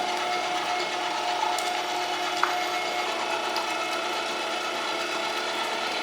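Foot-pedal meat grinder with a coarse die working chilled meat and fat for C-link sausages, giving a steady close mechanical whir with a faint ticking rattle and one brief clack, no talking.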